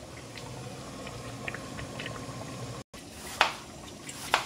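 Turkey breast sizzling in olive oil in a pan, a steady soft frying hiss with scattered small pops and crackles, a brief gap, then a few sharper spits near the end.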